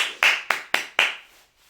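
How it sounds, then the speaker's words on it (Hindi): Several sharp hand claps in quick succession, five distinct claps close by, then a brief quiet tail. "तालियां तालियां"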